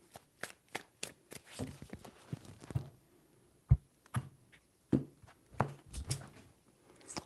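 Tarot cards being shuffled by hand in a series of crisp riffling and slapping bursts, with irregular taps and pauses between them, close and fairly quiet.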